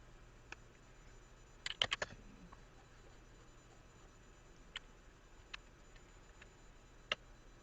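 Light typing on a computer keyboard while entering commands in R, a few sparse clicks with a quick cluster of keystrokes, faint and close against a quiet hiss.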